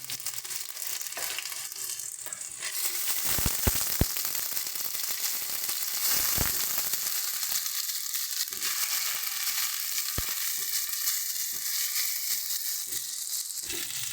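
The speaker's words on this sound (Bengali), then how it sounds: "দিয়ে দিচ্ছি তেলে রসুন থেতো করে রাখা, দিয়ে দিচ্ছি আদা বাটা" Crushed garlic, ginger paste and green chili paste frying in hot oil in a pan, a dense continuous sizzle with occasional sharp stirring clicks, close and steady throughout.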